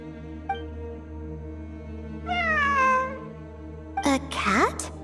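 A cat in Genshin Impact gives a clear, long meow midway, then a louder, rougher yowl at the end, both over a constant humming game soundtrack with a faint click early on.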